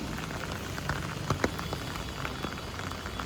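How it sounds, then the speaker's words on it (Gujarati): Monsoon rain falls in Surat, a soft, steady patter on surfaces with a few sharper drops standing out, fairly faint and with no talking. "વરસાદ એમને ચાલુ જ છે."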